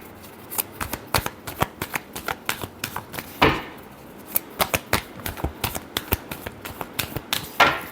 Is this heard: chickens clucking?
no